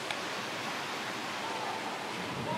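A waterfall at a swimming hole roars steadily, a dense, unbroken rush of falling water close by with no other sounds standing out.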